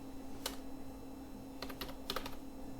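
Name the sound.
typing code on a computer keyboard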